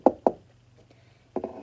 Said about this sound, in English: There was a knock on the kitchen door.